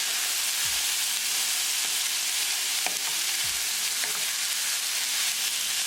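French beans with paneer are stirred in a hot pan, a loud, continuous close sizzle and frying hiss with a few soft scrapes of the spoon, no voices.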